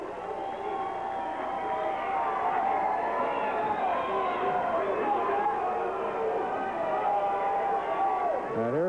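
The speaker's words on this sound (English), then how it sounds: "They're yelling at him, cheering at him." A wrestling crowd at a 1990s Portland event yells and cheers as wrestler Billy Jack Haynes makes his entrance, a dense, steady roar of many voices that holds loud and continuous throughout, with no break.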